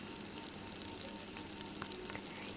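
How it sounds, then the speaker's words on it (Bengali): Chicken pakora frying in hot oil, giving a steady, dense sizzle with a few brief crackles and pops, heard alone at close range. "আমার কিন্তু এগুলো প্রায় ভাজা হয়েই গেছে"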